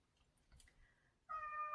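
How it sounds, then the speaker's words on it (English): A pet cat gives a faint meow in the background of a quiet room, a short, distant cry followed by a clearer sustained tonal call near the end. "You might hear my cat in the background."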